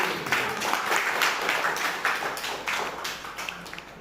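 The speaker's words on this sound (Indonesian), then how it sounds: "Dikasih tepuk tangan dulu" A classroom group claps after a presentation, with steady close handclaps and scattered taps running through the whole stretch.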